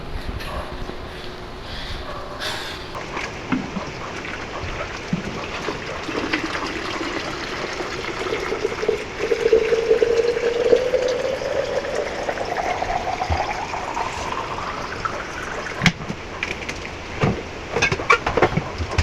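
Water runs and trickles steadily into a container, the pitch rising gradually as it fills, with faint clatter in the background.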